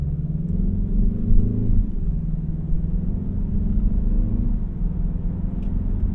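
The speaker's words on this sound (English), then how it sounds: "There does seem to be a little bit of fake pumped-in engine noise." Cabin sound from a 2025 Mazda3 2.5T Premium Plus hatchback while driving: a low, steady engine drone with artificially piped-in engine tones that rise and fall smoothly over a continuous road rumble.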